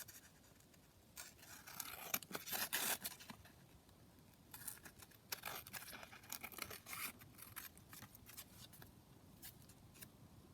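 Scissors snip through a printed collage sheet of paper for junk journal ephemera, giving a run of close, crisp cuts that bunch into louder bursts, with quieter rustling of the paper between snips.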